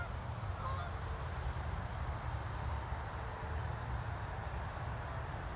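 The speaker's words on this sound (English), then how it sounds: "Oh, it's the ducks" Ducks honk in the distance outdoors, faint calls scattered within a steady wash of broadband background noise.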